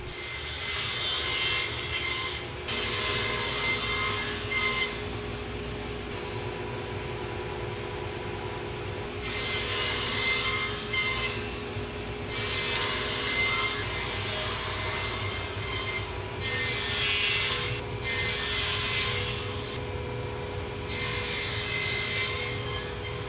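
Saw making repeated cuts in a plywood board, spaced a small step apart: a continuous mechanical whine under several louder bursts of rough cutting noise, close and fairly loud, with no talking.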